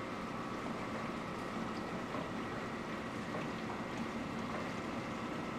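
Drive units of a Trident MD press running beside a tank under a DAF unit at a livestock truck wash's pre-sewage waste treatment, giving a steady, broadband mechanical hum and rush with no breaks.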